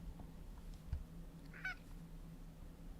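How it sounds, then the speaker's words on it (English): A pet cat gives one short, quiet meow in a room, with a faint thump just before it against low background hum. "My cat."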